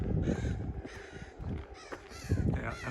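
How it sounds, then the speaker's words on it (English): A crow perched up high in a Regina schoolyard neighborhood caws several times in rough, repeated bursts, fairly loud and near against quiet outdoor ambience, with no talk. "that's a crow up there"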